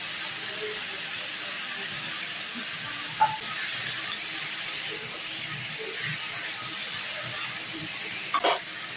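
Green chillies and tomato fry in hot oil in a pan for a mixed vegetable curry, giving a steady, even sizzle with a few faint clicks of stirring.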